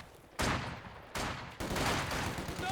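An MG42 machine gun in Company of Heroes 2 fires in three long, rapid bursts, loud and close, each starting abruptly with a brief pause between the first and second, the third running to the end.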